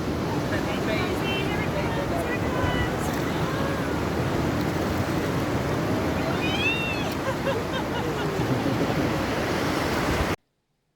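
Sea waves breaking on the beach at Newquay, Cornwall, a steady continuous surf wash with wind rumble, with faint voices in the background.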